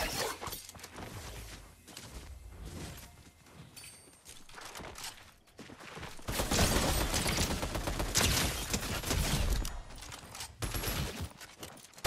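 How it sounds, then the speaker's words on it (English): Sniper rifle fire in the Fortnite video game, sharp gunshot cracks and bursts among busy game noise, louder in the second half, with no talk over it. "Literally, only thing you get hit with is snipers."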